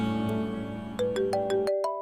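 A mobile phone rings for an incoming call, its electronic ringtone stepping through a short, bright, rising melody of clean tones that starts suddenly over a low background music bed in an indoor drama scene.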